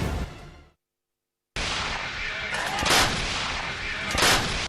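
Azerbaijani artillery guns fire at enemy positions, with loud booming blasts and rolling rumble. A sudden silent gap is followed by sustained noisy firing and two sharper bursts near the end.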